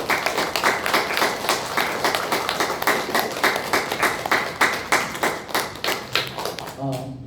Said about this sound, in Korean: 박수로 하도록 하겠습니다